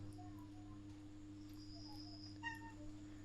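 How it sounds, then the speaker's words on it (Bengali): A domestic cat meows a few times, faintly and at a distance, over a constant low electrical hum in a quiet household room. "এই বিড়াল কান্নাকাটি কর"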